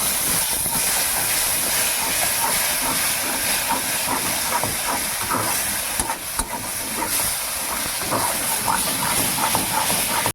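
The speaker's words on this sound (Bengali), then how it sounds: "অল্প একটু জিরে গুঁড়ো দিচ্ছি, একটু জল দিই, জল দিলে মশলাটা ভালো কষানো হবে।" Water splashed into spice masala with a little ground cumin in a hot pan on a village kitchen stove, giving a loud, steady steamy hiss that runs unbroken through the whole stretch.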